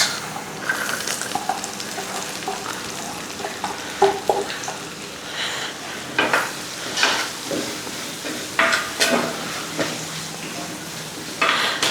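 Shallots frying in a pan crackle and sizzle steadily while a utensil stirs them, with repeated scraping and clinks against the pan throughout.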